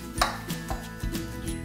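Eggplant is stirred into onions in a frying pan: a few light clinks and scrapes of a utensil against the pan, close and fairly quiet, in an uneven rhythm.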